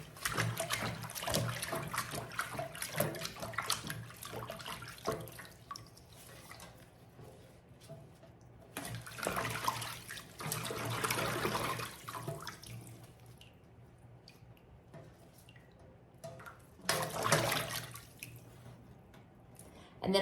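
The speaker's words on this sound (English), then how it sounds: "I'm gonna just put these in my sink with my warm water" Warm tap water runs into a sink as thrifted clothing items are rinsed, a steady splashing stream with surges and quieter trickling stretches throughout, fairly close.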